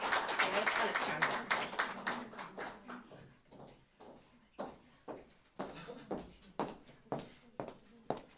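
Audience applause at the final of a county literary contest, a sustained burst of clapping that thins into repeated shorter rounds of hand claps from a modest crowd indoors.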